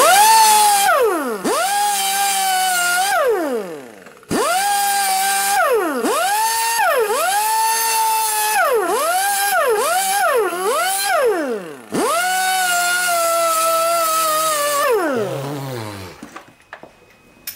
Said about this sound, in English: I do have this little cheap flapper wheel. I don't know if it'll work.